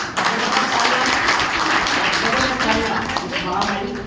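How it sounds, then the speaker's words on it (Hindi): An audience at an open meeting in Gurgaon, Haryana applauds a mentor with loud, continuous clapping that fills the room, and voices murmur underneath. "ऐसे ना एक बार जबरदस्त तालियां सर के लिए,"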